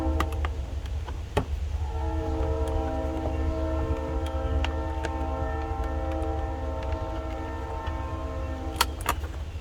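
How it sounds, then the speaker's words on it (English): A local train rumbles past with a steady low roar and sustained tonal hum, punctuated by sharp clanks and clicks of wheels over rail joints. "Local train, sorry about that, guys."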